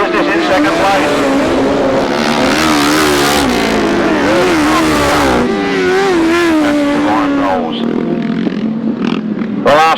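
Grasstrack sidecar motorcycles race at the Frittenden season finale, engines snarling and shifting pitch as machines pass close by, loud and continuous, with a commentator talking over the racing throughout.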